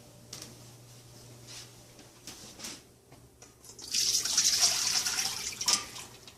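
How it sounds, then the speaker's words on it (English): Water from boiled potatoes is poured off in a kitchen, starting as a faint trickle and then becoming a steady, louder rush of draining liquid for a couple of seconds, alone with no talking. "you want to drain the water out of the potatoes"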